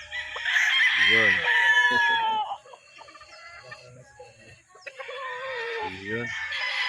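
A straight-bred SBR broodstag gamecock in a Bulacan yard crows twice, a loud, close, drawn-out cock-a-doodle-doo each time, with a quieter stretch of faint clucking and yard noise between the calls.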